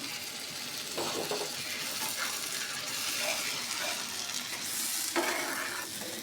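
Ground spice paste frying in hot oil in a pan while cooking a katla fish curry, giving a steady close sizzle throughout with a few light scrapes and stirring clicks on top.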